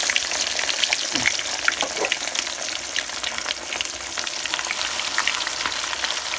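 Fish pieces frying in hot oil make a dense, continuous crackling sizzle that stays loud and close throughout.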